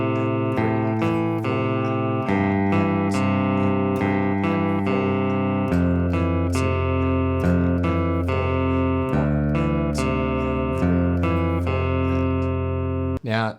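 Electric guitar plays the opening riff of a song, a steady run of sustained picked notes and chords over about thirteen seconds, loud and close, ending abruptly with no talk.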